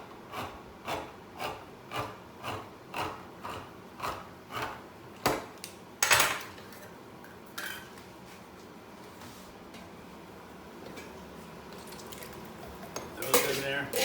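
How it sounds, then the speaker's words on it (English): A manual can opener works around a can of tomatoes for minestrone soup, a rhythmic series of about a dozen scraping, ratcheting clicks, followed by a clatter and quieter handling noises. "I'm going to open up my tomatoes for my minestrone soup."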